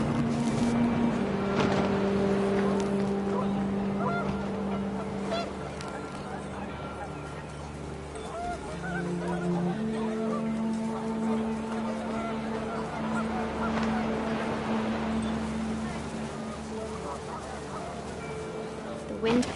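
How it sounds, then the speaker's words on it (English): Panicked geese honking in the video game What Remains of Edith Finch, a busy layered scene where sustained tonal game music and wind noise run beneath the scattered bird calls at fairly steady loudness. "The wind picked up, and panicked geese appeared and quickly went."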